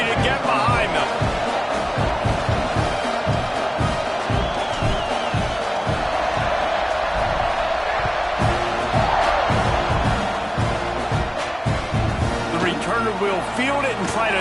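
Football stadium crowd roaring steadily as a Texas A&M team lines up to kick off, a dense continuous wall of cheering with a commentator's voice running over it.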